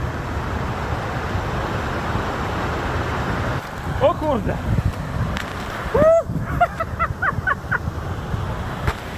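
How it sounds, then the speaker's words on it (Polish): A small waterfall where people take a winter cold-water plunge on New Year's Eve gives a steady rushing wash of water, close and constant, while people talk and exclaim over it. "To jest wodospadzik."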